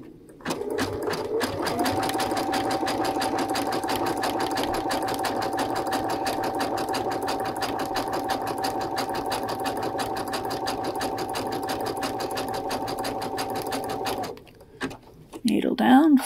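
Brother sewing machine running a wide 4.5 satin stitch for applique, a steady fast mechanical whir for about thirteen seconds before stopping, with brief fumbling sounds and a voice right after.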